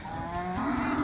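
Cattle moo at a livestock market: one loud, sustained, tonal low that rises in pitch partway through, close by, with no talk over it.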